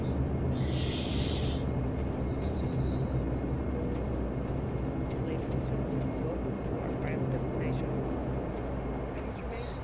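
A Majestic Dash 8 Q400 turboprop taxiing in the Prepar3D flight simulator gives a steady, loud engine drone with a brief higher-pitched tone near the start, holding constant throughout.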